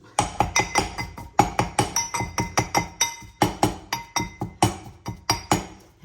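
Steady rhythmic pounding of spice paste with olive oil in a metal mortar, about twenty sharp ringing clinks in quick succession, close and fairly loud with no talking.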